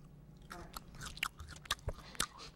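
Crunchy chewing of a Reese's Pieces candy, close up, with a string of sharp irregular bites and crunches over about two and a half seconds and no talking.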